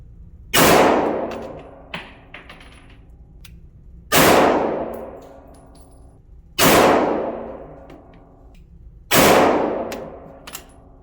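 Four loud, sharp gunshots from a Smith & Wesson M&P 9mm M2.0 Performance Center pistol at a shooting range, each a close crack followed by a ringing decay, spaced a few seconds apart.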